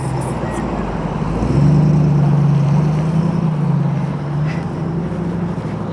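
A deep classic Daimler 2.5 Litre V8 engine drones steadily, rising in pitch and loudness as it accelerates, then holding a smooth rumble; no voices.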